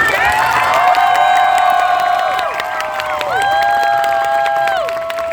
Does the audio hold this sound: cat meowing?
no